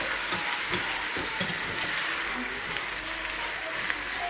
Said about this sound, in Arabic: هسه راح اضيف اللحم شويه اغلبه وياه بس شويه ياخذ حمسه